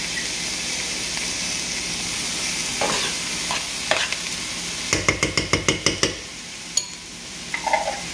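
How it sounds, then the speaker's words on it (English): Garlic with celery sizzles in a pan as the base for lasagna, a steady frying hiss broken by a spoon stirring and a burst of rapid scraping taps against the pan. "we're gonna saute this until it comes to a golden brown"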